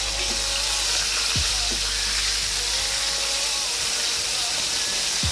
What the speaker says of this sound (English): Let's go ahead and flip over our mustard pork chops.